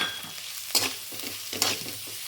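Potato pieces fry in a pan for sabudana khichdi, a continuous sizzle broken by two clear scraping stirs of a spatula, close and moderately loud with no talking.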